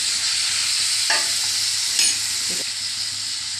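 Onions and tomato sizzle steadily in a hot pan, a constant hiss with a couple of soft scraping stirs, close and fairly quiet, with no talking.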